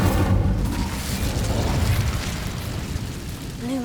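A fiery Incendio spell bursts out in the Hogwarts Legacy video game, a loud sustained whooshing blast of flame with rumbling low crackle that slowly fades, ending in a brief rising magical shimmer.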